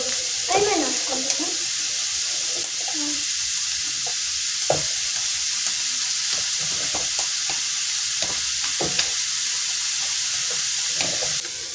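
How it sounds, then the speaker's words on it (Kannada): Two medium chopped onions sizzle in hot oil in a pan, with a steady frying hiss and regular scraping knocks from a spatula stirring them. A voice speaks briefly at the start. "2 ಆನಿಯನನ್ನು ಹೆಚ್ಕೊಂಡಿದ್ದೀನಿ. ಅದನ್ನು ಇದಕ್ಕೆ ಹಾಕ್ಕೊಳ್ತಾ ಇದ್ದೀನಿ."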